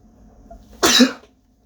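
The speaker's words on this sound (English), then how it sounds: "Excuse me, had to sneeze." A single sharp sneeze bursts out of near silence, loud and close, then quickly fades away.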